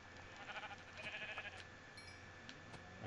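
Faint sheep bleats from the Minecraft video game, several short repeated calls over a quiet background hum, with no talking.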